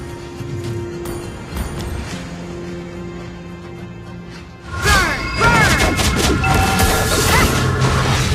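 In a Mobile Legends match, a turret is destroyed with a sudden heavy crash and rumbling impact halfway through, preceded by quieter game ambience and followed by sustained loud clatter and effects.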